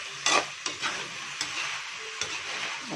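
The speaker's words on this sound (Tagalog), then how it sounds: "Kailangan lang natin ma-coat yung ating karne at yung tokwa ng ating" Meat and tofu are stir-fried in oyster sauce, with repeated scraping strokes of a utensil against the pan over a steady close sizzle, about four distinct stirs across the stretch.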